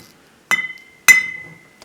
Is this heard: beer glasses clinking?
yes